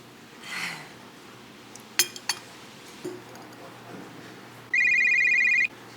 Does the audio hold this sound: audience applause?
no